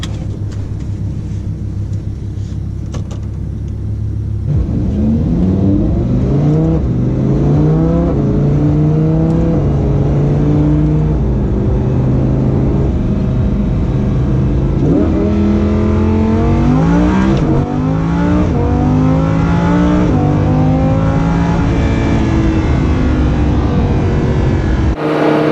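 A Lamborghini Huracan engine roars close and loud through hard launches and pulls, its pitch climbing repeatedly through the gears, with brief dips at each shift and a steady idle rumble at the start.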